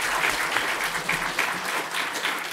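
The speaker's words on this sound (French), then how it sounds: "Je pense qu'on peut applaudir quand même et remercier nos intervenants" A panel audience at a French manga publisher's round-table applauds steadily, dense clapping filling the room from start to end at a moderate level.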